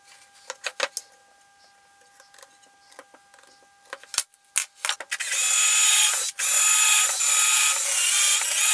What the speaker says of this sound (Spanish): la broca esta es buenísima, ¿eh? Te deja el agujero hecho y avellanado